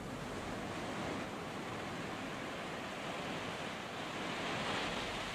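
Continuous sea surf washing against the shore below a cliff-top temple at the southernmost tip of Bali, a steady broadband roar with gentle swells in loudness, no voices.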